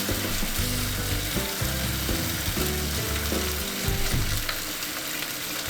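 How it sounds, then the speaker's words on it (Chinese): Pork belly and thin potato slices are stir-fried in a wok, a loud continuous sizzle broken by rhythmic scraping and clattering of the spatula, with no voices. "翻炒1分钟，使土豆和肉片均匀上色。"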